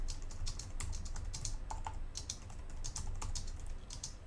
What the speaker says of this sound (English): I'm going to hit the page up button on my keyboard, which should allow me to start typing